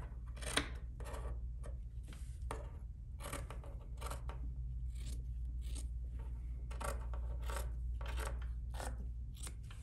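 Scissors trimming a fabric seam allowance on sewn pajama shorts: a quiet, close series of crisp snips repeating every half second or so over a faint steady hum, with no talking.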